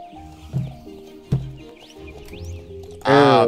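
A horse in the video game Star Stable gives a brief, loud whinny-like call near the end, following a stretch of steady game music with a couple of soft thumps.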